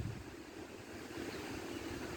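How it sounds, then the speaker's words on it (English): Wind blows steadily across a backyard vegetable garden with cucumber trellises, grape vines and radishes, a continuous rushing, buffeting roar close on the microphone with no voices. "It's kind of windy today for us here."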